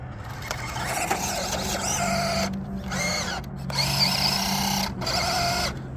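WPL D12 RC Kei truck's small electric motor whining in bursts as it drives over mossy grass outdoors, pitch rising and falling with throttle, repeated surges separated by brief pauses, loud and close.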